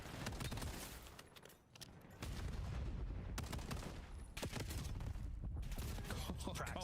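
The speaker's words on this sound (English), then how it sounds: "Practicing the pistol shot" Pistol shots in a Call of Duty League match, a dense stream of sharp gunfire cracks in quick bursts, loud and close, with faint commentary beneath.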